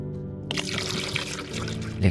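Liquid pours in a steady, continuous stream while mixing a magical concoction in a Christmas-themed toymaker adventure game, bright and close, with a soft tonal bed of background music beneath.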